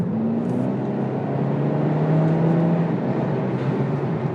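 Hyundai Elantra N Line fitted with a JB4 tuner pulls hard under acceleration, a steady loud engine drone with a rising tone, heard from inside the car with no talking.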